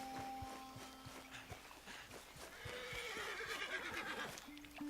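A horse whinnies in Red Dead Redemption amid quiet outdoor ambience, with a few soft thuds and tones in the background; the call rises in the middle of the clip.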